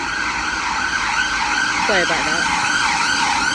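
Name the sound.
ambulance siren passing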